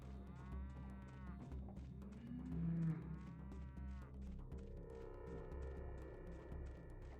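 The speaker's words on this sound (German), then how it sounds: "Ich sehe mir mal Tiere. Also Kühe." Several cows moo in the Pathologic video game, long drawn-out lowing calls repeating over a steady low hum, one louder and nearer bellow in the middle, with no talking.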